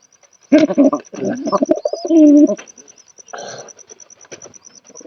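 Pigeons in a loft cooing in soft, throaty bursts, loud and close, with a faint high steady tone running underneath and quieter calls trailing off toward the end.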